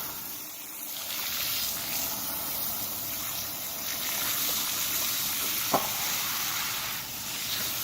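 Water sprays and splashes steadily over a valve cover from a B16A cylinder head, rinsing paint stripper off in a constant hissing wash with one brief sharp knock near the end.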